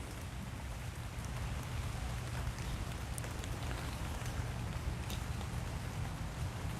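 Steady rain falls across a lush garden, a dense, even hiss with scattered pattering drops, constant and close throughout with no voices.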